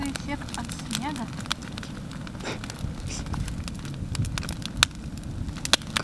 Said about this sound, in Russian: Какой костер ты зачем тушишь?